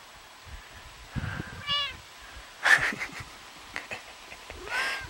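A house cat meows several times in a quiet indoor room, each meow short and moderately close, with a few soft rustles between them and no talking.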